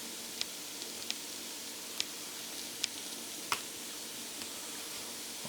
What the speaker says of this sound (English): I want my spices to bloom and really release some of their oils